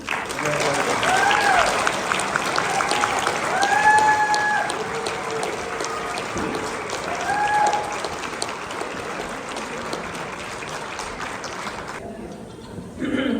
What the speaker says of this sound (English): Let's give a round of applause for our installed leaders of Women's Council of Realtors.